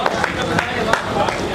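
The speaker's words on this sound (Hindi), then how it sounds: "एक बार जोरदार ताली बजाएं।" Audience at a Hindi poetry recital breaking into loud applause, a dense, continuous wash of clapping with scattered sharper claps standing out over the short stretch.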